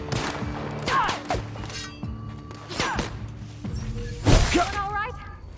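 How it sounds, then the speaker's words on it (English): A firefight in The Outer Worlds: several punchy gunshots and impacts ring out at irregular intervals amid other game sounds, loudest near the end, mixed with a talking voice. "Good shooting, Parvati. Oh, boy, guys, that was a firefight."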